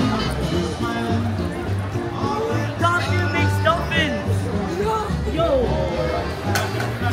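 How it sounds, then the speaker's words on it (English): Steady crowd chatter fills Hollywood Boulevard at Disney California Adventure, a dense, close babble of many voices with rolling background noise, while one person talks nearby over the hubbub. "Pretty standard crowd."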